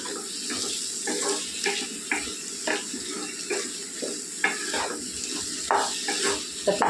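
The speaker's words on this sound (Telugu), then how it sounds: "కారం వేసిన తర్వాత నూనెలో ఏగితే పచ్చివాసన పోతుందండి" Chilli powder fries in oil in a pan for a brinjal and potato curry, giving a continuous sizzle broken by repeated scraping strokes as it is stirred, close and steady.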